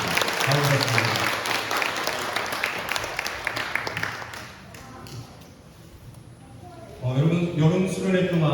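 A church congregation at a summer retreat Sunday service applauds to welcome newcomers, steady broadband clapping filling the room for several seconds, fading briefly before a voice speaks over renewed sound.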